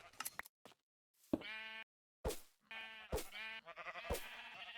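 Sheep in a Minecraft automatic wool farm bleat in repeated short, nasal calls, several overlapping in quick succession with brief gaps between them, fairly close and clear.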